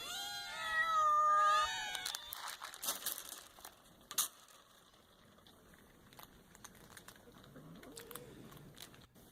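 A cat gives a couple of drawn-out meows at the start, followed by crinkling and rustling noises and faint clatter at low level.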